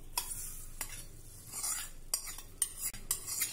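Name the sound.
tempering poured onto guava chutney and stirred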